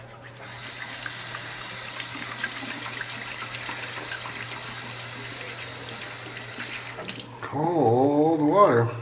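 Tap water runs in a steady, loud rush for about seven seconds, then cuts off as a voice speaks close by.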